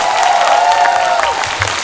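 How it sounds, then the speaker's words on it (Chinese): An audience claps at a Chinese new-talent singing contest final in Christchurch, New Zealand: a short, dense burst of applause from a crowd filling the hall. "系咪俾多啲掌声？"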